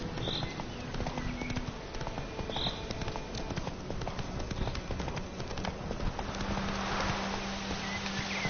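Hooves of a horse galloping in a PS4 video game, a steady continuous clip-clop rhythm running throughout at moderate level, with faint wind-like ambience behind it.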